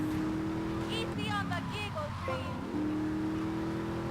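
A car engine revs hard in the GTA Vice City street race, a steady droning tone that drops out briefly around a gear change or turn, with a rising whine and tire noise before the drone returns.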